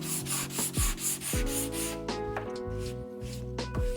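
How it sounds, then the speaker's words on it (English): Sandpaper rubbing along the edges of a wooden toolbox to ease a chamfer, quick rhythmic back-and-forth scrapes, close and fairly quiet, with no voices. "go around all these sides, these edges like that, and just sand a little bit of a chamfer in that"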